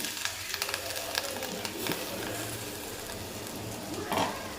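Almond pieces and sweet pumpkin roast in ghee with a steady, moderate sizzle and occasional stirring scrapes, with no talk over it.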